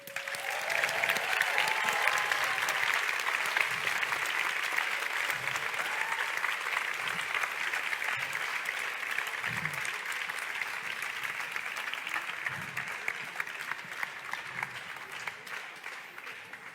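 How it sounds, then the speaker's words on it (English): Crowd at a grand final event applauding three finalist teams: long, steady applause from a sizable audience, moderately loud and even throughout, with occasional faint cheers. "I certainly think that they all deserve yet another round of applause."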